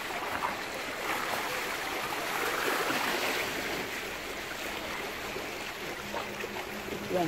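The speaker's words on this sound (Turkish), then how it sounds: "Karadeniz'in dalgalarının sakinleştirici sesi." Calm Black Sea waves washing in a steady, soft hiss of water and surf that holds at an even level throughout, heard from nearby with no talking.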